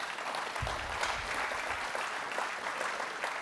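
Audience applause at a Dutchess County Executive's 2015 budget address, a steady wash of many hands clapping at moderate volume for a few seconds, with no talk over it.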